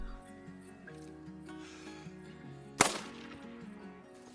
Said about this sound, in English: let's just take a practice shot here